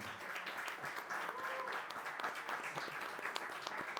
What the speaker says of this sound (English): Big round of applause for our panel, please